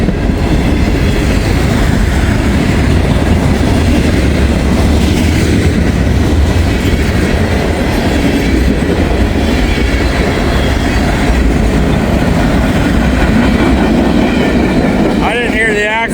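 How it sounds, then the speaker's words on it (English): A train rumbles past loudly and steadily on the rails, a dense continuous roar with faint clatter, ending with a brief high squeal of wheels. "That would make sense why it's such a goofy looking train."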